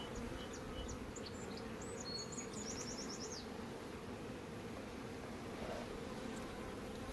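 Honeybees hum in a dense, steady drone around an opened hive split during a check for a laying queen. A few brief bird chirps sound early on in the background.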